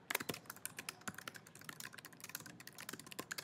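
Rapid typing on a computer keyboard, a close, quick irregular run of crisp key clicks and clacks at a faint level with no talk.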